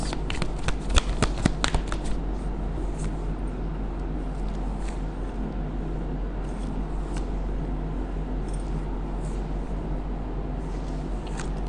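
Tarot cards are shuffled close to the microphone in a quick burst of riffling flutters, followed by softer card handling and faint rustling over a low steady hum.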